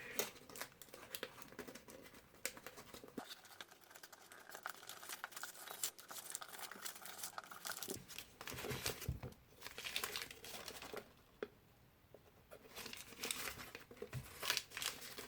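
A small piece of paper crinkles and crumples for papier-mâché in close, irregular bursts, with a brief quieter pause partway through before the rustling picks up again.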